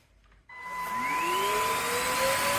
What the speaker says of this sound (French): Je vais aspirer en même temps.